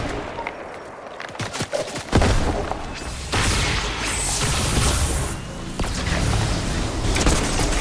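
Heavy gunfire in the video game Fortnite, a loud sustained barrage of shots and blasts that builds into a dense, continuous roar with scattered crashes.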